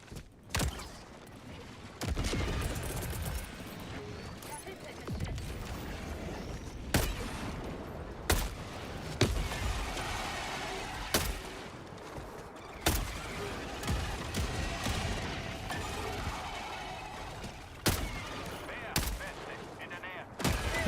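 Sharp gunshots from a DMR rifle in a video game, a series of loud single reports spaced one to two seconds apart over a busy background of game noise.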